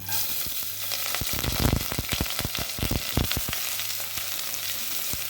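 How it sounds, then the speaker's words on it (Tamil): Onions frying in oil with a dried red chilli and curry leaves for a mushroom gravy, a steady broadband sizzle broken by a quick run of sharp spoon scrapes and clacks against the pan, no voices. "அதில் ஒரே ஒரு வரமிளகாய் போட்டுக்கலாம். போட்டுட்டு இந்த கருவேப்பிலையும் வெங்காயம் போட்டுட்டு வெங்காயம் நல்லா கோல்டன் கலராக வர அளவு வதக்கி எடுத்துக்கலாம்"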